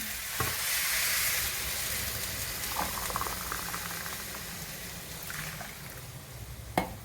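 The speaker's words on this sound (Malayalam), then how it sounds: "രണ്ട് ഗ്ലാസ് അരിക്ക് നാല് ഗ്ലാസ് വെള്ളം അത് തിളപ്പിച്ച വെള്ളം ഒഴിച്ചിട്ടുണ്ട്" Boiled water poured over two glasses of basmati rice in a cooking pot gives a steady, close rush and bubbling hiss lasting several seconds, with a few soft knocks and a sharper clink near the end.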